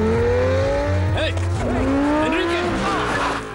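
A car chase with a white Lamborghini: engines rev and tires squeal in sweeping rising and falling tones over steady loud road rumble, with speech mixed in.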